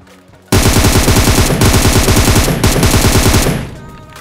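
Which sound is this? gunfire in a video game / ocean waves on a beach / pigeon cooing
gunfire in a video game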